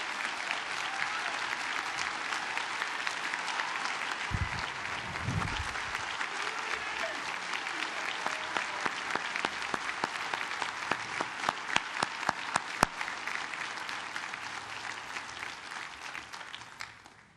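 A commencement crowd at a 2009 law school graduation applauds the faculty, a dense wash of clapping that swells and thins into scattered individual claps near the end, with a brief voice underneath early on.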